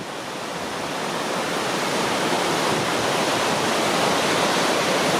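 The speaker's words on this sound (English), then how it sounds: "here's the waterfall!" Sweden's highest waterfall roars in a dense, continuous broadband rush, loud and steady throughout with no voices, the thunder of falling water filling the whole clip.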